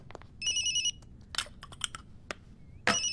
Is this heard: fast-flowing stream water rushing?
no